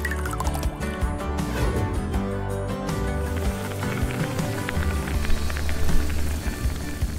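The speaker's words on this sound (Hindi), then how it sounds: "और इसमें जाता है पीने का पानी।" Drinking water pours steadily into a watermelon cake mould, a continuous gurgling, splashing stream that changes pitch as the mould fills.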